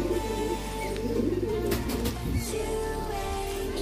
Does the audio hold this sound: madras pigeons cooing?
yes